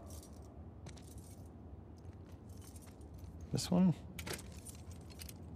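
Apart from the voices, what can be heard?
trying keys in a lock, from video game The Last of Us Part II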